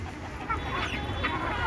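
Desi chickens cluck softly and intermittently close by, with faint scratching and pecking noises beneath the calls.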